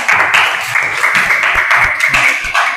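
A classroom group of students claps together in a dense, even burst of applause, close and loud, lasting a few seconds.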